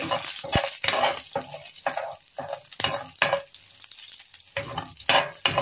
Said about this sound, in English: I'll leave a little bit of oil on my pan. And then I'll put my garlic.